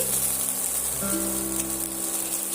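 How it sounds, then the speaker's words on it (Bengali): Brinjal slices frying in a covered pan over low heat give a steady, even sizzle with a soft hiss and a faint tonal hum, unbroken by talk. "আমি এভাবে বেগুনগুলো সুন্দর করে লাল লাল করে ভাজা করে নিয়েছি"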